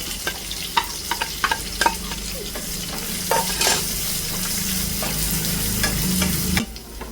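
Sliced onions fry in a hot pan for a Kasaragod-style fish curry, a steady close sizzle broken by sharp scraping clinks of a spoon stirring against the pan, no voices.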